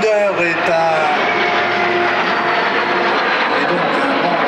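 Jet aircraft of an aerobatic patrol fly past at an airshow, a loud, steady engine roar that holds throughout with a broad rushing wash.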